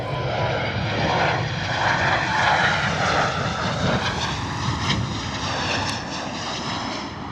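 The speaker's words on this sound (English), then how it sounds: "this Ryanair is looking pretty steady on the approach" Ryanair airliner on landing approach at Bristol Airport in gusty wind, its jet engines roaring steadily and loudly throughout, a broad continuous rumble with no voices over it.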